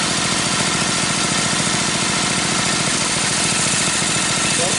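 A Briggs & Stratton opposed-twin 18hp engine with dual carbs and dual exhaust runs at a steady idle, a loud, close, continuous pulsing rumble with even firing throughout.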